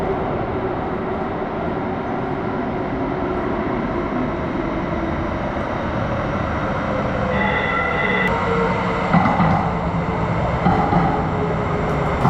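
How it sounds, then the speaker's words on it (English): A MAX light rail train in an underground station at Washington Park, Portland, giving a loud, continuous rumble of wheels and motors, with tonal squeals and whines building near the end. "I just took the MAX train from Washington Park to downtown Portland"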